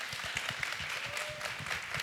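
An audience at a school award celebration claps in a quick, steady patter of many hands, moderately distant and fairly soft, continuing evenly for a couple of seconds.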